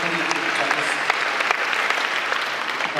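A church congregation claps together during a service, a bright, dense patter of hands filling the room, steady and loud throughout with some voices mixed in.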